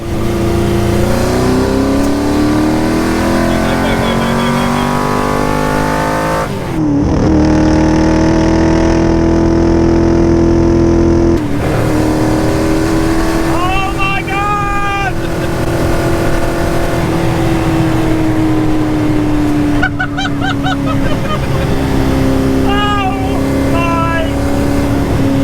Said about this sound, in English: I got behind the wheel of a Superformance GT40